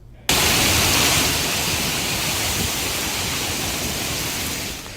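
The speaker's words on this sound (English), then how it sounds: "Sheets of pounding rain reduced visibility to nearly zero." Severe storm sweeping through with sheets of pounding rain and strong wind, a loud, dense, steady roar of rain and gusts that starts abruptly and holds with no break.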